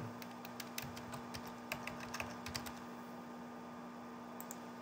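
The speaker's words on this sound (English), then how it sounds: "Type in logout." Soft, close keystrokes tap on a computer keyboard in brief uneven bursts over a faint steady electrical hum, with a quieter stretch toward the end.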